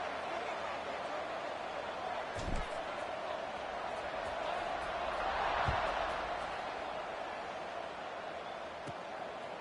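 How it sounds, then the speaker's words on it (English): Steady crowd buzz fills a college football video game stadium, Duke against Cal, holding a constant roar that swells slightly midway, with a couple of faint thuds underneath. "this crowd is buzzing after that last score"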